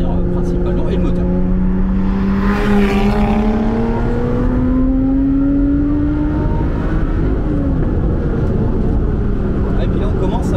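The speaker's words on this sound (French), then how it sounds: "On entend siffler le compresseur." Lotus 410 Sport engine running with a steady supercharger whistle, rising tones sweeping upward over a loud, constant drone as the car pulls, with people talking over it.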